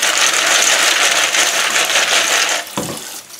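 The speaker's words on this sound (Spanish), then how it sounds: "Y ahora los aclaro un poquito para que se vaya toda la espuma" Snails are rinsed under running water to wash off foam, a loud close steady gush of water that drops away near the end with a brief splash.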